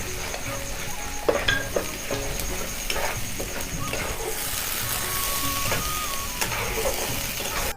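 Spice powders (meat masala, chili, turmeric, coriander and Kashmiri red chili) stirred and sautéed in a pan for chickpea ghugni, with a steady sizzle, scraping stirs and light clinks of a spoon throughout.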